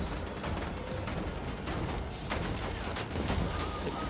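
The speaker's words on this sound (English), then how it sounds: "Why are you shooting me?" Gunfire rattles through a combat scene in Wolfenstein: The Old Blood, dense overlapping shots and booms in a continuous noisy barrage, no voices over it.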